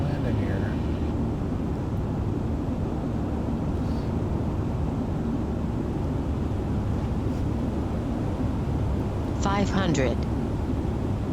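A Beech Bonanza in a flight simulator drones steadily on approach for a tight bush-style landing, its engine and wind noise constant and close while someone talks over it.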